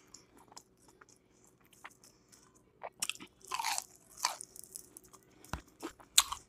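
Someone eating Long John Silver's fried food at close range, with loud crisp crunches and bites in irregular bursts between quieter, wet chewing. Nobody speaks.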